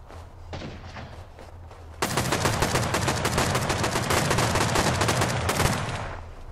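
Rapid assault rifle fire in the Rust video game during a base raid, a dense sustained burst of loud close shots after quieter background distant gunfire, with no one talking.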